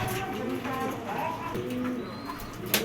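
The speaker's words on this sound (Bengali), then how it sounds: "খুব ভালো ব্লাড লাইনের একটা কবুতর" Racing pigeon with a strong bloodline and five official races behind it, cooing with soft low throaty coos close by amid steady background noise, with no speech.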